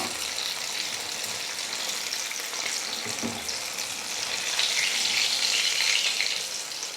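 Sweet potato bondas fry in hot oil with a dense, steady hiss and crackle that swells slightly toward the end, heard close and without any talking.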